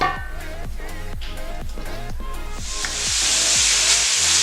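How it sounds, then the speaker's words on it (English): Beef dropped into hot oil after sautéed onions, garlic and ginger for Moroccan harira, a loud, close sizzle with rhythmic stirring scrapes that swells into a bright, steady hiss. "Once your oil is hot enough, you can add in your beef."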